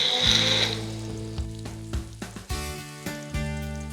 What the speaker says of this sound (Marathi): आता ना आपलं हे कांदा टोमॅटो थोडा परतून झालेला आहे.